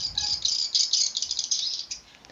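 Recorded swiftlet calls played through a Piro 88 amplifier and player, a dense run of bright, rapid chirps and twitters that repeat steadily and fairly loudly for the whole stretch, with no voices over them.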